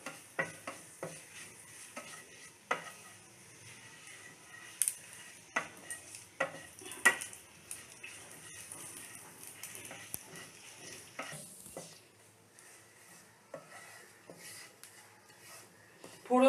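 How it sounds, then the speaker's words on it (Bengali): A tempering of bay leaf, garam masala and whole cumin frying in hot oil for a Bengali stuffed pointed gourd dish gives a faint, soft sizzle with scattered light clicks and scrapes of stirring close by. "ফোড়নটা একটু ভাজা হোক।"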